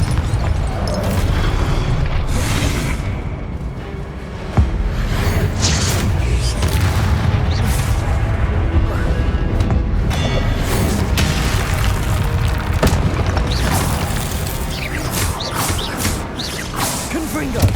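Confringo blasting spells exploding in Hogwarts Legacy, with repeated deep booms and bursts layered over dense, continuous combat noise that stays loud throughout.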